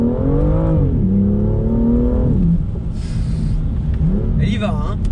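A 410 hp BMW M2 accelerating, its engine rising in pitch with a steady revving drone, easing off and then climbing again, heard close from inside the car.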